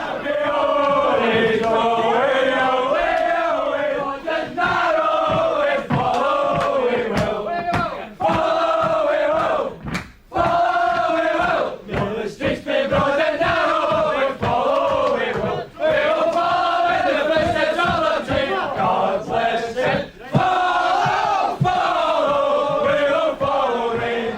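Large football crowd celebrating the champions Rangers, a loud continuous roar of cheering and rhythmic chanting that swells and dips, with sharp claps and whistles, filling the stadium throughout.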